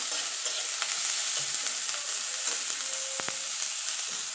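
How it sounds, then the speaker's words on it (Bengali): A steady, close sizzle of onions frying in a pan, with a few soft scrapes of stirring partway through. "এবার পেঁয়াজটা একটুখানি ভাজা ভাজা করে নেব"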